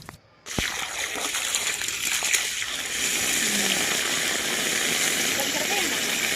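Freshly harvested mango ginger is washed in water on a farm, a constant sloshing and splashing rush that starts after a brief pause and stays loud and steady, with a low engine-like rumble underneath.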